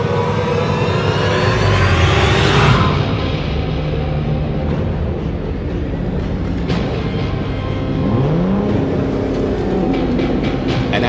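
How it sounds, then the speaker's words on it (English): The Batmobile's engine roars loud and close in a Batman audio drama, a dense rumbling surge that swells and then shifts into a whirring drive with brief whooshing sweeps. "They heard a loud engine roar and saw a black, sleek vehicle heading straight towards them."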